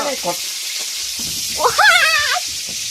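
Pork sizzles and fries in a pan, pressed flat as it cooks, with a continuous close crackle and hiss. A voice talks briefly over it partway through.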